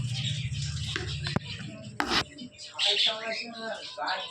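A caged adult cockatiel gives harsh squawks and chirps, with a couple of sharp knocks and shuffling between the calls, close by and fairly loud.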